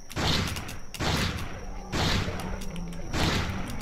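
Four evenly spaced shotgun blasts, each about a second apart, boom in a zombie video game, loud and punchy.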